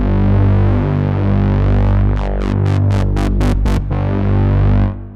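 On an Oracle synthesizer, custom movement modulation sweeps the filter cutoff and noise over a held tone, with a run of rhythmic bright noise pulses in the middle before the sound settles and cuts off, with no talking.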